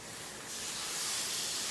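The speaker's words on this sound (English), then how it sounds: "Do you hear that sear? That's what we want to do." Rainbow trout sizzling and searing on a grill, a steady close hiss that swells slightly, with no talking.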